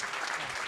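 An audience at an awards event claps, giving a brief, dense burst of applause that is steady and loud throughout.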